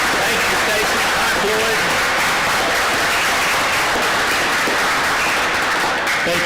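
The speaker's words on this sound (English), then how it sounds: "Let's have one more round of applause" Audience applause at a city council meeting fills the room steadily and densely for the whole stretch, a continuous wash of many hands clapping at fairly close range.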